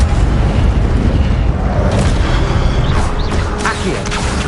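Repeated casts of the Incendio fire spell in Hogwarts Legacy on PS5 produce a sustained, roaring fiery explosion with heavy low rumble, crackles and a few sharper bursts.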